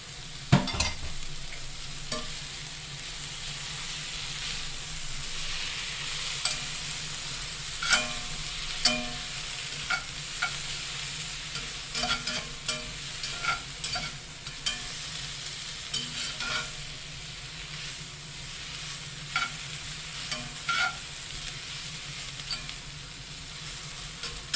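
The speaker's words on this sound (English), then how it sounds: "And just give that a mix and stir." A seeded jalapeno frying in a pan for cheesy cauliflower chicken, with a soft continuous sizzle under repeated spatula scrapes and taps as it is stirred, close and moderately loud, no voices.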